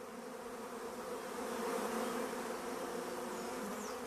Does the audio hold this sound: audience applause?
no